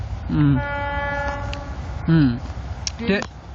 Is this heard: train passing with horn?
yes